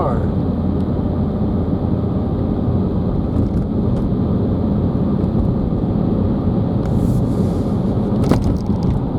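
Car driving along a countryside road near Castlereagh, East Belfast, at about 40 mph, a constant loud broadband engine and tyre rumble heard from inside the cabin, with a few faint clicks.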